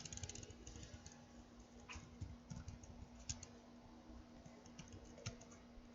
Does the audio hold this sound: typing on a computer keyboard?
yes